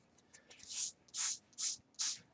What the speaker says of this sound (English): And Nora, would you like to help me spray down this paper towel?